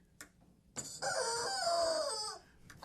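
A chicken sound effect plays: a short squawk, then a loud, drawn-out crowing-style cluck lasting over a second, close and clear against near silence.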